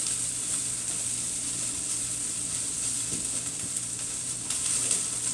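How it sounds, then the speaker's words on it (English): Green beans sauté in an open pan, giving a steady, even sizzle with a soft hiss and faint stirring clicks throughout, nearby and moderately loud with no talk over it. "But we're just going for a saute here. Open air saute."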